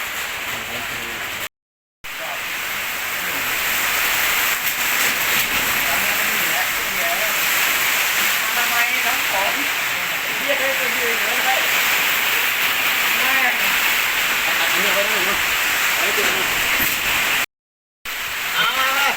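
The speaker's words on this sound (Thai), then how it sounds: "ฝนตกหนักครับ" Heavy rain pours down in a dense, steady roar, continuous and loud throughout.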